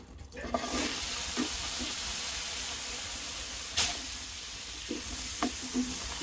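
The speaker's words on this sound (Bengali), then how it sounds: "এই হাঁড়িতে এবার আমি মিষ্টি কুমড়া ভেজে নেব।" Pumpkin pieces fry in a pot with a steady close hiss of oil, punctuated by occasional clinks and stirring scrapes.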